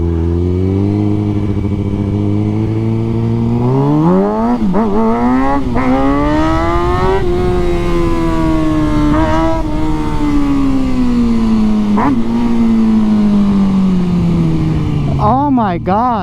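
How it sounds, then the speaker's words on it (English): A stunt motorcycle revs hard and accelerates, its engine pitch climbing in repeated surges with gear changes, loud and close, while a person talks and exclaims over it. "Guys, these stunt bikes are no joke. They're so torquey."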